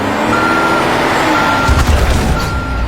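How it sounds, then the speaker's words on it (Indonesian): A truck backs up, its reversing alarm sounding a steady series of loud beeps over the engine's rumble, with a hiss of air near the end. "Kemudian dia memundurkan truknya."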